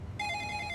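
A phone ringing with a bright, steady electronic tone that starts abruptly and carries on for under a second, close and clear over light background noise.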